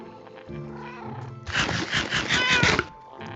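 A cat in the video game Minecraft meows in a loud, drawn-out wail over low game background sounds, close by and with no talking.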